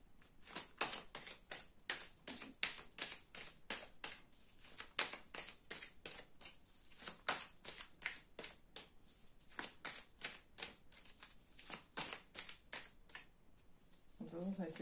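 Tarot cards shuffled by hand in quick repeated riffling bursts, close and crisp, with brief pauses between runs and faint speech underneath.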